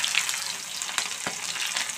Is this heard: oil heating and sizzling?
yes